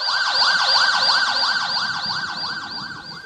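An ambulance siren wails loud and close in a fast, repeating rising-and-falling yelp that continues steadily before fading slightly at the end.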